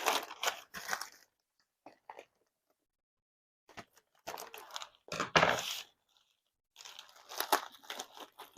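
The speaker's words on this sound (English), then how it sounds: "Get all this tape out." Tape is pulled and torn off orchid shipping packaging in several close bursts of crinkling and ripping, separated by short quiet pauses, with no talking.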